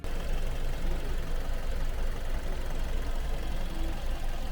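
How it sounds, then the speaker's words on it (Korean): The 2.0 LPI engine of a third-generation Kia K5 idles steadily at close range, a constant low hum with a faint rhythmic knock and no voices. "엔진 소리도 좋고 깨끗하네요."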